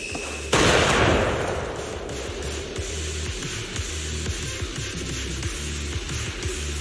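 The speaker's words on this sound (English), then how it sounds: "So he raised the cannon he was oh so proud of, with just one last shell inside." A cannon fires its last shell in Zenless Zone Zero: one sudden loud blast with a broad, crackling burst that decays over about a second into a sustained low rumble and layered game effects.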